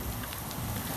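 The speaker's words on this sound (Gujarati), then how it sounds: "આવતો તો ત્યારે વરસાદ ચાલુ હતો ને અત્યારે ચાલુ જ છે." Steady rain falls outside in a continuous, even hiss of drops with no pauses, dense and fairly close.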